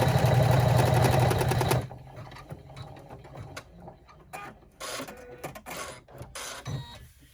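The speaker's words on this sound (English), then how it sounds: "do the top stitching" A sewing machine topstitches a zipper bag clutch, first running in a loud continuous whir for about two seconds, then falling quiet apart from scattered clicks and handling knocks, heard close up.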